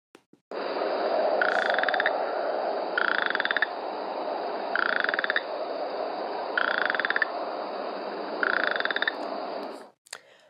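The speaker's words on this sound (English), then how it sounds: "It sounds like if you were to run your thumb over a comb." Western chorus frogs calling in a dense outdoor chorus, with five rising trills like a thumb run over comb teeth repeating at steady intervals over a constant background of other frogs.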